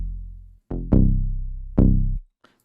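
A Benji 808 bass sample in a beat plays a few deep, sustained booming bass notes, three hits with long decays and a brief gap, heard alone without speech.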